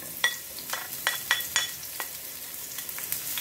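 Ginger and garlic sizzle in hot oil in a pan, with rhythmic scraping stirs over a soft continuous frying hiss.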